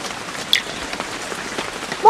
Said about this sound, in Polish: ale pada jak hu